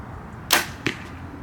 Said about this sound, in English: Just smashed my arrows.